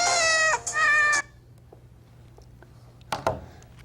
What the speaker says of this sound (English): Your kitty cat says someone is trying to call you.